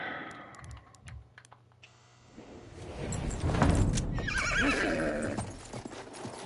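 Horse neighing and clip-clopping hooves in the video game Battlefield 1, a whinny up front followed by galloping hoofbeats and louder gunfire-laden battle noise, with faint clicking of keys.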